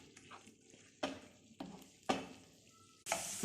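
Spoon stirring kefta meatballs through a sauce in a pan for Moroccan stuffed bread rolls, with a soft background sizzle and several sharp scraping strokes close by, spaced about half a second to a second apart.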